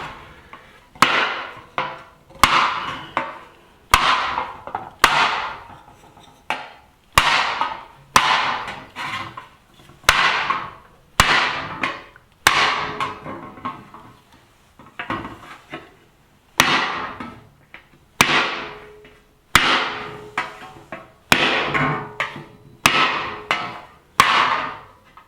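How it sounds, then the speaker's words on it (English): A chasing hammer strikes solid copper sheet in air-chasing repoussé, with no backer board beneath, making sharp, ringing metallic taps in a steady series of about twenty blows, close and clear with short decays and no talking. "this is kind of a version of air chasing, because there's nothing, it's not hitting a backer board there"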